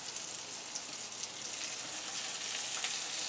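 Macadamia-crusted haddock fries in a hot saucepan, making a continuous soft sizzle with scattered tiny pops and crackles, heard alone and fairly close.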